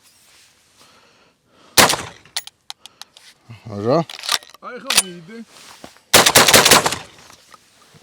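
An Akdas pneumatic tool fires a few sharp, loud bursts, with strong cracks near the start and a dense burst toward the end, while someone talks between the shots at close range.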